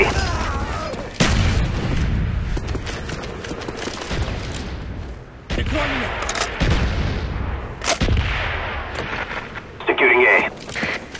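Mortar artillery strikes in the Call of Duty Black Ops video game: repeated booming blasts and gunfire crack over a noisy battlefield, with game radio voices speaking between the heavy impacts.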